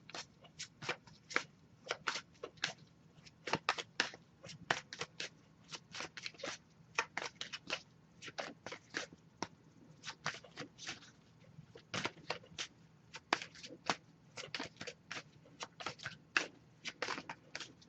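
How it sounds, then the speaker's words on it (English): Repeated close shuffling of cards, a long run of quick papery riffles and taps in an irregular, continuous rhythm, quiet and without talk. "I'll give it a couple more shuffles."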